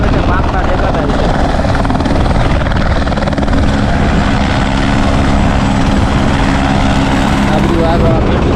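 A helicopter at Kedarnath drones loudly and steadily throughout with a dense, constant rotor and engine roar, while voices talk faintly underneath.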